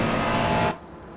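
A BMW race car pulls away during a two-hour endurance race at Bathurst, its engine a loud, steady drone that drops off suddenly partway through.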